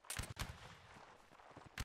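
Musket volley from a line of soldiers in the Napoleonic Wars video game: a few faint, distant cracking shots scattered across the moment, the first cluster near the start and another at the end, over low background rumble.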